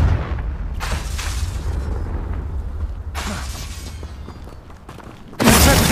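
Confringo explosive spell blasts in Hogwarts Legacy, several booming bursts over a continuous low rumble of game background, with a louder blast at the end.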